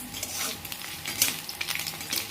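Carrots and beans fry lightly in a pan for Kashmiri pulao, giving a soft continuous sizzle with scattered spoon-stirring scrapes, fairly quiet and close, no talking.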